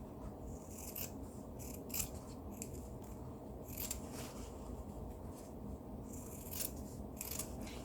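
Sewing scissors snipping through fabric to trim a seam allowance while making a dress, a series of soft, crisp cutting clicks repeating irregularly over a low, steady background hum, close and quiet, with no talking.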